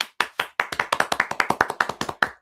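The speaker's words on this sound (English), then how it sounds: "Round of applause." A single person clapping for a round of applause, about twenty sharp, close hand claps in an uneven rhythm with brief pauses, alone and without talk.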